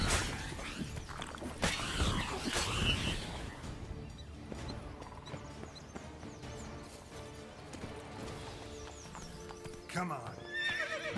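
Roach, the horse in Witcher 3, gallops with rapid clip-clopping hooves and lets out a loud whinny, with a voice speaking over the hoofbeats.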